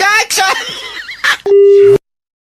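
Raised voices and harsh shouting give way to a loud steady telephone busy tone after hanging up, holding for about half a second and then cutting off into silence.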